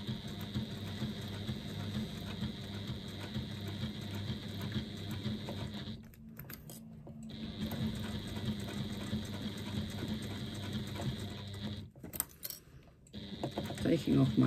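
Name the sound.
sewing machine top stitching a strap edge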